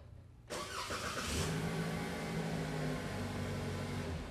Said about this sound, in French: Le moteur se mettra en marche pour une période d'au plus de 10 minutes